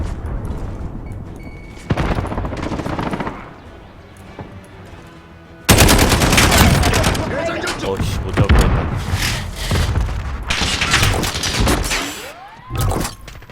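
Rapid bursts of SCAR rifle fire from the video game Modern Warfare, loud and close, mixed with heavy thuds and explosions across a noisy battlefield.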